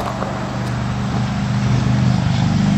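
A Chevrolet Corvair engine with a test fifth main bearing runs with a steady, close, loud mechanical rumble and drone that holds even and unbroken throughout, with no voices.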